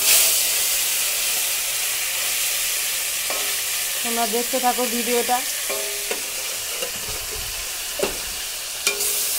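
Fish pieces fry in hot oil in a pan with a continuous loud sizzling hiss, broken by a few brief clatters as they are turned. Someone speaks briefly over the frying.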